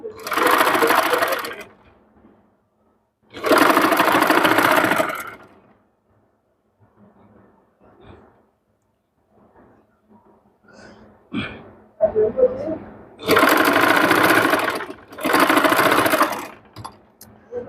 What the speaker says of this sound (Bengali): সেলাইটি আমাদের একদম সোজা করে দাগ বরাবর দিতে হবে